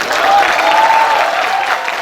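Audience applause at a kavi sammelan poetry recital during a literature festival, a steady even wash of clapping filling the whole moment, fairly loud with no voices over it.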